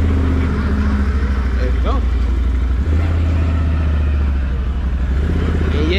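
A 2021 Can-Am Renegade 570 XMR ATV engine runs close and loud at a steady idle, a continuous low rumble filling the scene while a voice speaks briefly over it.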